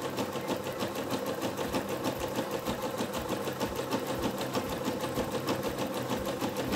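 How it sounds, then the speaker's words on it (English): Sewing machine running a zigzag stitch on stretchy fabric for a dress hem, a steady, fast mechanical clatter with an even rhythm throughout, close by and moderately loud. "Just aiming to zigzag because it's a stretchy fabric."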